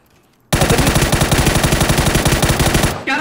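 Rapid automatic gunfire from PUBG on the snowy Vikendi map bursts in loud and close, a dense run of shots held for about two and a half seconds before cutting off abruptly.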